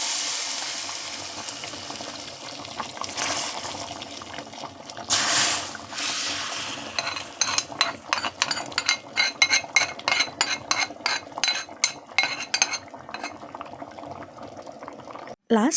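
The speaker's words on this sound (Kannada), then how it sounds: "ರಸಮ್ ಕುದೀತಾ ಇದೆ" Ridge gourd dal rasam bubbles steadily in a pot, a continuous boiling hiss broken by a run of rapid clinking spoon or utensil taps against the vessel near the end.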